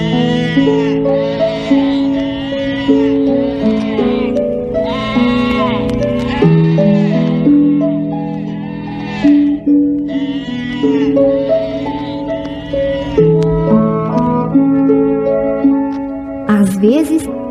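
Sheep bleating again and again in a calm pastoral scene of a Portuguese-language radio drama, the wavering cries close and loud, mixed with steady background music throughout.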